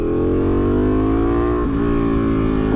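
Kawasaki H2 motorcycle engine pulling hard in second gear on a partial throttle opening, a loud, steady rising whine with a brief dip midway before climbing again, close up and without talk.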